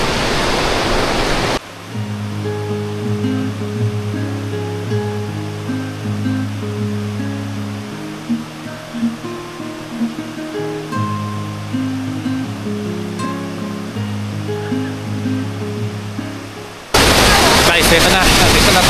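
Strong rushing water at Taytay Falls, a mountain waterfall, roars loudly and close for a moment at the start and again at the end, with a stretch of soft music in between.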